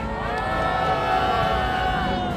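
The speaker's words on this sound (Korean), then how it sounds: "참가자 여러분들의 힘찬 박수와 함성으로 시작하도록 하겠습니다" Participants at an outdoor press conference in front of an embassy cheering and clapping, a sustained crowd roar with shouts and applause, fairly loud throughout, with a voice over it.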